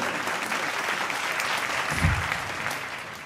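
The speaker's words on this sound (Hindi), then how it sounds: "एक बार उनका अभिनंदन करे पूरा सदन दोनों हाथ ऊपर उठाकर ताली बजाकर" The audience at a Hindi comic poetry gathering claps together in a full, continuous burst of applause, steady throughout with a brief low thump midway.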